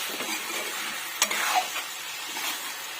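Dry chicken fry crackling in a pan as it is stirred, a dense continuous sizzle with a couple of sharp scrapes against the pan, up close and without speech.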